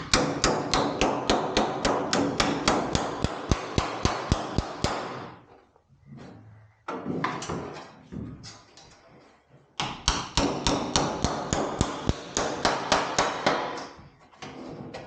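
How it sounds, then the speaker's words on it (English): A hammer beats along the edges of an aluminium metal tub in rapid, evenly spaced ringing blows, loud and close, pausing briefly mid-way before the steady pounding resumes. "All the edges we're going to hammer"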